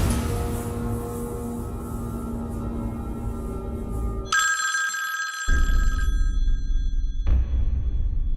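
An old-style telephone bell rings steadily at close range, a bright sustained metallic trill that briefly drops out and resumes, over a low background hum, with no one speaking; the call comes from a line that should be disconnected.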